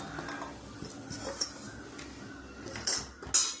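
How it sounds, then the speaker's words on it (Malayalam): Mango pieces go into boiling vinegar in a pot for a gooseberry and mango pickle, with scattered metal clinks of a spoon against the pot and two sharper knocks near the end over a low background. "ഞാൻ മാങ്ങ ഇട്ട് കൊടുക്കുകയാണ് കേട്ടോ"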